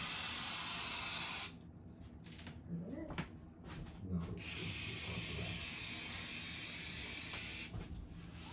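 Undercoating sprays from an aerosol onto the tailgate of a 1952 PD4103 bus in a loud, steady hiss, stopping for a few seconds of quieter handling and a voice, then resuming in a second long burst.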